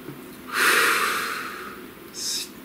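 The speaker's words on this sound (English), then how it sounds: "Please take a nice deep breath." A single deep breath taken during a guided breathing exercise: a soft airy inhale that swells and fades over about a second, followed by a shorter breathy puff.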